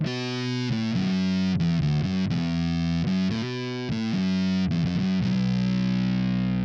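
Electric guitar through the amp simulator of a Roland SP-404MKII, with a heavily distorted tone, plays a chugging riff of repeated notes and chords, loud and upfront, ending on a sustained ringing chord.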